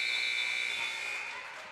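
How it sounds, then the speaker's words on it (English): A wheelchair basketball game buzzer blares as a loud, sustained electronic tone that holds steady and then tapers slightly as it ends, with faint arena ambience underneath. "the buzzer will sound."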